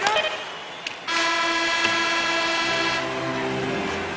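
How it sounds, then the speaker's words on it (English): A loud sustained ice hockey arena horn blares to end a period, holding a steady tone for several seconds over the hum of a crowd. "And the horn sounds,"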